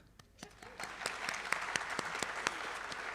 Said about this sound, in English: Let's give that a clap.